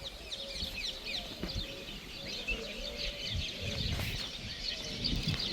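Birds chirp and call through the shaded side of a park, a steady mix of high twittering with occasional louder calls over low rustling background noise.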